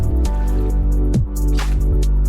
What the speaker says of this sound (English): An eerie, bubbling mud pit appeared on the streets of Nanjing, China